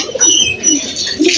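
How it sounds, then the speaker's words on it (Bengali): Pigeons coo softly and continuously as they come down from their nests toward scattered broken rice, with faint wing rustling mixed in. "দেখতে পাচ্ছেন কবুতরগুলো আস্তে আস্তে নিচে নেমে আসছে বাসা থেকে"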